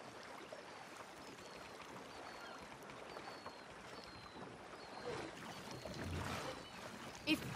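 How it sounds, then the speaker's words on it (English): Oars dip and splash in water as a man rows a boat in the video game Red Dead Redemption 2, with soft steady trickling and lapping heard faintly at a distance. "All I can see is a strange man rowing."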